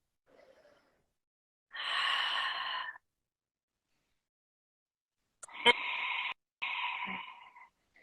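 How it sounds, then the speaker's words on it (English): A person breathes in through the nose and out through the mouth with the tongue raised, producing three distinct airy breaths in and out separated by silence, the final exhale broken by a short catch. "we're going to breathe through our nose, and we're going to breathe out through our mouth with our tongue elevated"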